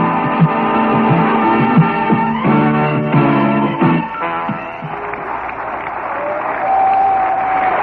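A ballpark crowd of over 31,000 in Atlanta roaring and applauding steadily at a Reds versus Braves game, a broad sustained wall of cheering heard over radio, with a faint tone near the end.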